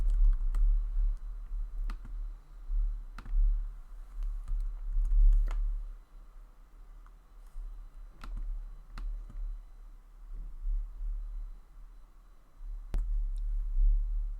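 A computer keyboard gets sparse, scattered key taps over a low steady background hum.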